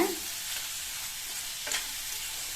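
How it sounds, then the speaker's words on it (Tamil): Capsicum sautéing over a high flame, a faint, even sizzle with one soft stirring scrape midway, heard close with no talking. "ஹை ஃப்ளேமில் வச்சு 2 நிமிஷம் வதக்கியாச்சு."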